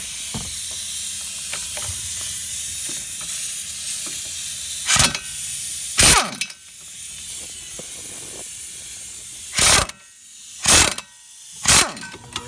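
Ratchet loosening the brake caliper mount bolts on a steering knuckle assembly, heard as several short, loud bursts of clicking and whirring separated by pauses against a low, steady background.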